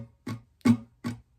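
Three or four sharp acoustic guitar strums, close and fairly loud, give a brief excerpt of the second strumming pattern for a song.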